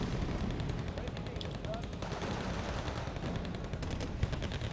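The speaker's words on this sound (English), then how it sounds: "Do a strafing run on them." Aircraft in the Wargame Red Dragon strategy game strafe a target with rapid automatic gunfire, a dense continuous rattle of bursts with some low booms underneath, at a fairly even loudness throughout.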